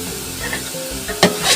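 Steady sizzling and stirring of a large batch of carrots frying in oil for halwai-style gajar ka halwa, with a sharper scrape of the spoon near the end, close and continuous, no talking.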